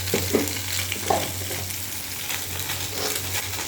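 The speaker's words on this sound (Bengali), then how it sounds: "চলো মাছগুলো ভাজা করে নিই" Steady, loud sizzling of small puti fish frying in hot oil, with a few clinks of utensils near the start.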